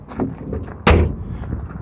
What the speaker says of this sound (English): Door closes nice.